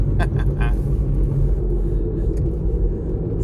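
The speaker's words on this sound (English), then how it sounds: "the car really does haul ass, man." A 1.8-ton Nissan Stagea AR-X Turbo wagon accelerating hard, its engine a loud, steady low rumble filling the cabin from start to finish.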